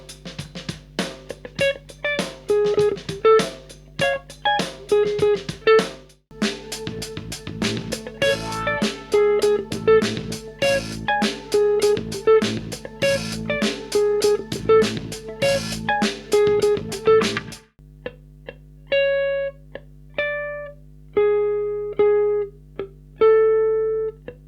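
Clean electric guitar plays a busy funk fusion line built on the Major 7#5 pentatonic scale, with quick plucked notes in steady rhythm over a backing groove, then a sparser passage of ringing notes near the end.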